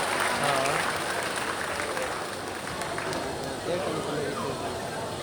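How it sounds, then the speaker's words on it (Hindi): Steady, loud applause from a festival crowd at the Thawe Mahotsav in Gopalganj, sustained and dense for the full stretch with a faint voice underneath. "एक बार आप सभी से आग्रह कि तालियों से स्वागत कीजिए आज के इस महान और पवित्र कार्यक्रम।"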